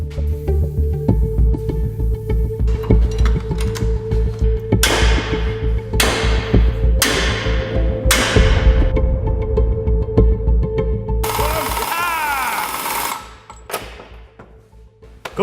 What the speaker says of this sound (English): This massive spanner is just slipping on these big old nuts here.